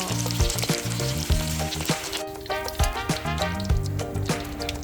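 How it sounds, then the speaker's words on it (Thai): Pork balls sizzle and crackle steadily in hot oil, with soft clinks and scrapes of a utensil stirring them in the pan. "ทอดกระทะต่อไปนะคะ ไม่ต้องใส่เยอะหกเจ็ดลูกพอ"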